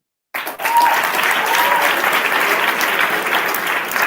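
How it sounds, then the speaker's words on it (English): A ceremony audience at a camp closing bursts into applause after a short silence and keeps up a full, even round of clapping to the end. "Let's give our hand of applause again."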